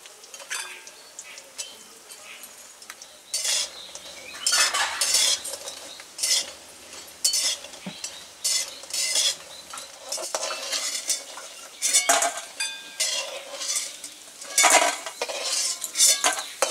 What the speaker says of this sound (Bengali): কড়াইতে তেল দিয়ে মা প্রথমে বড়িগুলো ভেজে নিচ্ছেন